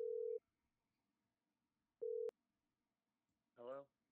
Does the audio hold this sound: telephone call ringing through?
yes